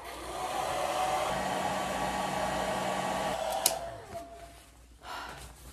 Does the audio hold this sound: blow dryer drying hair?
yes